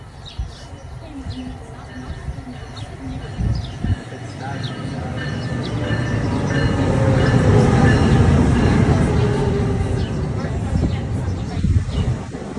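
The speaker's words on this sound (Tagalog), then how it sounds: "LRT, naghihintay lang tayo LRT." A light rail (LRT) train rumbles and clatters past nearby, growing louder toward the middle, with a steady mechanical roar and occasional rattles; a voice is faintly heard at first.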